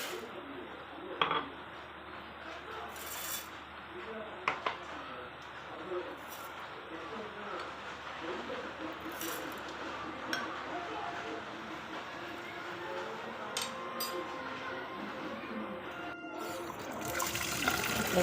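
Hands washing soaked sorghum, urad dal and fenugreek in water, a soft continuous sloshing and trickling with faint clinks of a vessel, close and low, with quiet talk in the background.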